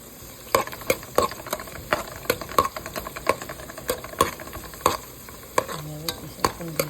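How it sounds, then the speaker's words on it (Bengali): Onions, cinnamon, cardamom and cloves fry in oil with a soft, constant sizzle, broken by sharp, irregular clacks of a utensil stirring the pan, all close and without talk. "এভাবে কিছুক্ষণ ভেজে নেবেন।"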